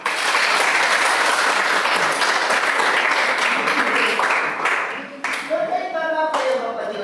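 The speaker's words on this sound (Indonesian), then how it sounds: "Tepuk tangan." A classroom of students gives sustained, dense applause that stays loud and steady, then dips briefly near the end as scattered claps and a few voices carry on.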